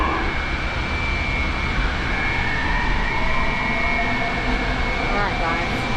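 An airport terminal train ride, with a steady loud rumbling hum of the moving rail car and faint whines throughout, under an automated announcement voice.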